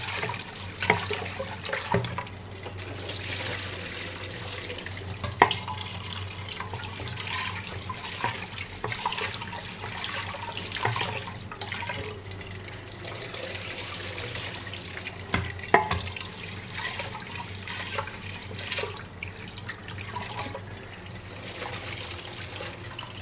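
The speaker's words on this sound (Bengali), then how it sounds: "ডাল ধুয়ে নিলাম, ডালটা ধুয়ে নিলাম।" Tap water runs steadily while dal lentils are rinsed in a kitchen, a continuous close splashing wash with small clinks and swishes throughout.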